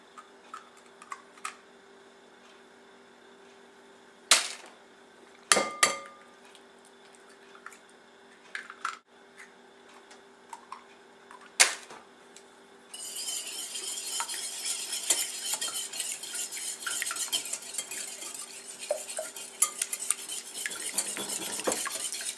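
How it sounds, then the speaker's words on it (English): Four eggs are beaten together in a bowl, a run of light clinking utensil taps and scattered knocks that gives way to steady, brisk whisking in the second half. "you start off by beating 4 eggs together"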